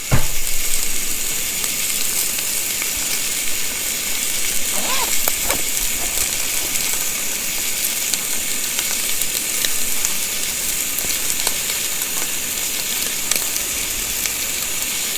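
Food sizzling fast over a camp cooking setup, a loud, continuous frying hiss that holds steady throughout, with faint clinks and a brief murmur of talk early on.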